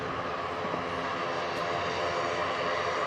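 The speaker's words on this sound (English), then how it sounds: "EI fave coming in on the Aer Lingus ATR." An Aer Lingus ATR turboprop airliner arriving at Manchester Airport gives a steady, droning engine roar that holds evenly throughout, moderately loud and somewhat distant, with no talking.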